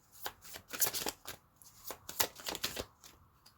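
Tarot cards are shuffled in quick close riffling bursts, several rapid shuffles in a row, crisp and fairly quiet, with no talking.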